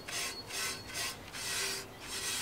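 Rust wiped off a cast iron pan after electrolysis, four close, steady rubbing strokes in an even back-and-forth rhythm, each a broad scratchy hiss with brief gaps between.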